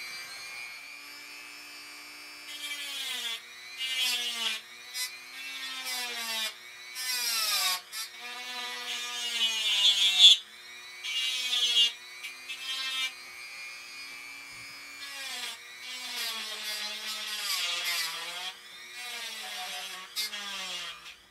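A corded power carving tool works on wood while carving a dachshund figure, whining at varying speeds in repeated bursts that rise and fall, with no talking.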